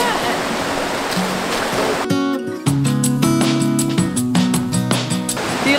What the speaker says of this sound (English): I think you really have to be careful though when you come here with the current